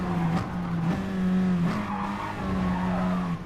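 A race car braking hard into the brake zone at Monza, engine note dropping through downshifts while tires squeal, loud and close throughout.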